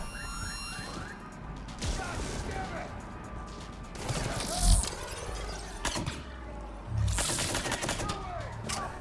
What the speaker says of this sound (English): Luckily the silence pistol has quite big punch to its size.